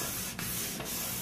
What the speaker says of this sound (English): You can rub this back and forth and get it in there really deep if you want.